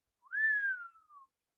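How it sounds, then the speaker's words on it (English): A single person whistles one clear sliding note that rises briefly and then glides down, with a short tail-off, heard alone in a quiet room. "Peter whistled."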